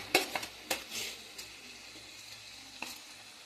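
Ginger dropped into a hot pan for a vegetarian kachu shak dish, a few sharp clinks and scrapes followed by a light sizzle that settles into a quiet simmer, no voices.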